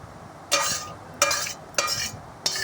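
A spoon scrapes and stirs doi katla curry with ghee and garam masala in a pan, four distinct bright scraping strokes spaced apart over a soft sizzle.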